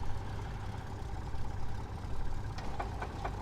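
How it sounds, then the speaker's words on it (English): Right engine of a Just Flight Duchess Model 76 twin piston aircraft idling in the Prepar3D simulator, a steady low rumble with a few short clicks near the end. "So we just started the right engine there"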